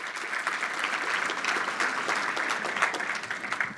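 A church congregation claps in sustained applause during a sermon, a dense, steady wash of many hands across the whole stretch with no talk over it.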